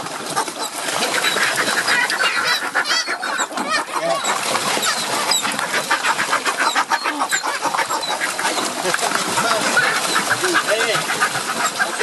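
Gulls squabble noisily over fish thrown from a boat in the Icelandic seas, a dense continuous chorus of harsh squawks and cries up close, with a steady engine drone underneath and people talking in French.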